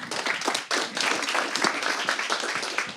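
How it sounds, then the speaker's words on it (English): Audience applause closing a startup talk by the Intercom co-founder, a dense, steady wash of clapping from a crowd that holds loud for about three seconds with no speech over it. "Let's give a big round of applause to Des."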